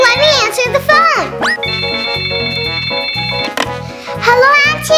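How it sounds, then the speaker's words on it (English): A toy telephone in a children's pretend-play laundry store setting rings with a steady electronic tone while someone talks excitedly over it and music plays underneath. "Okay, let me answer the phone!"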